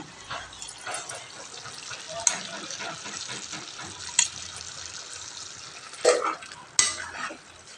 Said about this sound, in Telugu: టమాటా ఉల్లిగడ్డ పేస్ట్ వేసుకున్నాను కదా, మంచిగా కలుపుకొని ఒక 5 మినిట్స్ మగ్గనిద్దాం